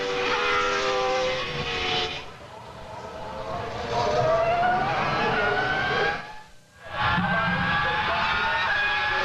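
Formula 1 cars race through the stadium infield at the 2000 German Grand Prix at Hockenheim, engines howling with rising and falling pitch as they pass close by, a brief lull between cars, with commentary voices underneath.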